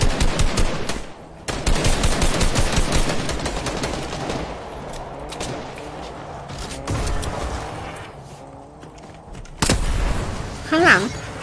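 Gunfire in the video game Fortnite, including sniper fire, with bursts of rapid shots and a few heavy single blasts, loud and close over game sounds, while players talk over it.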